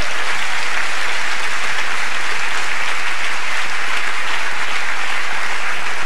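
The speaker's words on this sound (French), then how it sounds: "vous autres, vous applaudissez" Sustained audience applause at a comedy gala, Gala Les Olivier 2004, loud and steady from a large crowd throughout with no talking.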